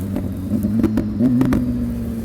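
A BMW S1000RR motorcycle fitted with an SC Project exhaust revs nearby, its engine pitch rising and wavering over a couple of seconds, with a few sharp crackles popping through the steady rumble.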